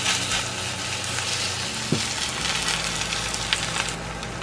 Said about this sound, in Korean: 이제 계란팬에 식용유를 넉넉히 두른 다음에 살짝 데워주세요. 그리고 반죽을 넣어주시면 되는데